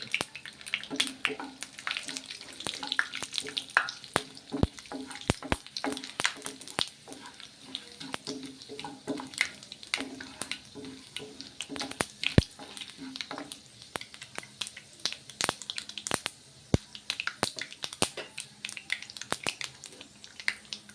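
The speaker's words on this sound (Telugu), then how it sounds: "కొంచెం వేస్తున్నాను పట్పట్ అంటున్నాయి" Mustard seeds, urad dal, cumin and curry leaves crackle and sizzle in hot oil. Faint, irregular pops and snaps rise over a soft frying hiss and continue steadily for about twenty seconds.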